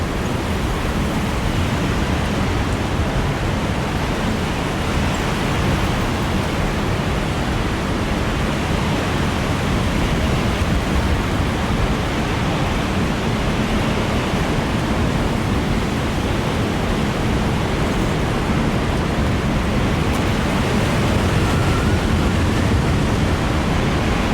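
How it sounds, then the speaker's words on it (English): A loud, unbroken roar of fire, water and rain fills the scene in the Alone in the Dark video game, a dense steady wash of noise that stays level throughout with no voices. "Like roar the fire, roar the water, the rain."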